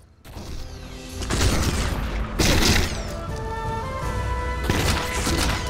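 Enemy gunfire in Sniper Elite 4 pounds toward the player through wooden cover, with heavy booming shots and crashing impacts in repeated loud bursts over a constant rumble of combat.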